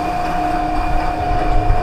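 An elevator moving up to the second floor gives off a steady, strange-sounding drone with a sustained mechanical tone and low rumble. It stays even and close throughout, with no voices.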